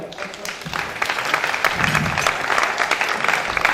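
Audience claps loudly for a volunteer at a live show, continuous dense applause with a few voices and cheers mixed in.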